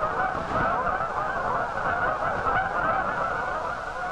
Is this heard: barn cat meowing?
no